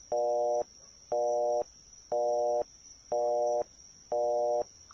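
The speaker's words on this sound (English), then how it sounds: "I'll just hit the redial button on my phone." In the Phoenix Wright video game, a phone's redial fails to connect and gives five evenly spaced electronic busy-signal beeps over a steady high whine. No voices are heard.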